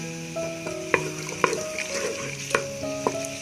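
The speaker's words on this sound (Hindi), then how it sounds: "अब मैं इनको हल्का सा फ्राई करूंगी" Onions frying gently in oil in a pot with a soft, continuous sizzle, punctuated by a few sharp clinks and scrapes of a utensil, close by and quiet, with faint tonal background sounds.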